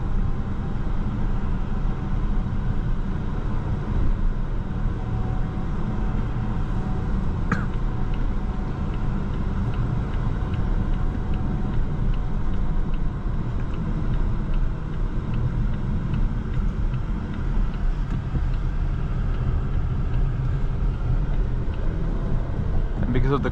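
A 2026 Volvo XC40 B4 Core car accelerating and cruising, heard from inside the cabin as a steady engine hum over broadband road and wind noise.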